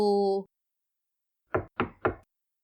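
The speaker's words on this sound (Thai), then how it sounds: "เคาะประตูไปสามครั้งติดๆ" Three quick, close knocks on a hospital director's office door, used as an audiobook sound effect, sounding after a short sustained tonal note and a pause, with no talk.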